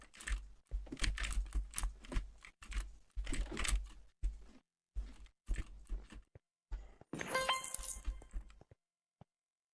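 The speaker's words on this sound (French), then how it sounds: "dans les moments moins critiques, où le saut ne demande pas une précision extrême, le son du clavier réapparaît" Computer keys, including the space bar, are pressed in quick irregular bursts of close clacking taps with short pauses, followed by a brighter clattering rattle near the end.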